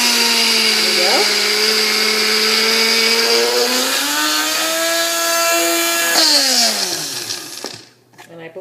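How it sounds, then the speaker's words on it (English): A small electric grinder grinding seeds in a little container, a loud whirring motor whine running steadily, rising in pitch partway through, then winding down and stopping at the end. "we're going to grind that in our lovely little container here in our grinder"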